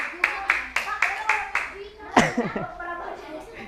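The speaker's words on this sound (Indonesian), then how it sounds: "tepuk tangan buat kelompok Raka" Children in an elementary school coding class clap for a presentation group, giving about six evenly spaced, rhythmic claps, followed by young voices talking.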